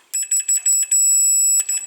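A multimeter set to continuity mode gives a series of short, loud electronic beeps followed by one longer sustained tone and a final beep, during testing of a T-Fal 4-slice toaster with one side not working.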